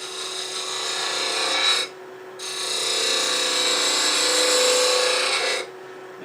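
Wooden toy wheel being scraped back after a rough bandsaw cut, likely spinning on a lathe, heard as two long, loud, even rasping passes separated by a brief pause, with no talk.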